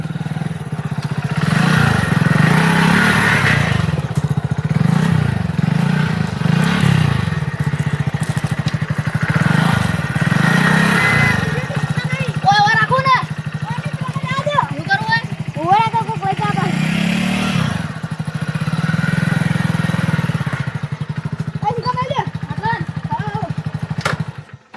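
A motorcycle engine idles and revs close by with a steady rumble that rises and falls repeatedly, while people talk over it.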